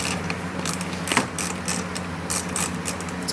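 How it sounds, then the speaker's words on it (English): Mini impact wrench removing bolts on a wrecked Ford Mustang Mach 1, giving a steady rapid ratcheting, hammering chatter that runs close and continuous with brief louder bursts. "It's a beautiful little mini impact there."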